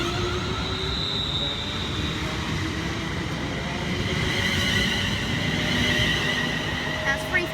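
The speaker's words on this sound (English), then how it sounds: "now the crossing is a class 350 London North Western Railway train" A class 350 London Northwestern Railway electric train passes on the West Coast Main Line at Kings Langley, a steady rumbling rush with faint tonal whine, moderately distant and continuous.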